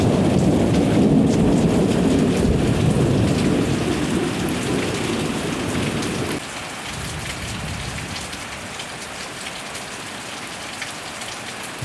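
A heavy thunderstorm pours a dense, steady roar of rain at a roadside spot in Christchurch, with a deep rumble under the downpour early on that eases partway through, leaving the rain alone and still loud.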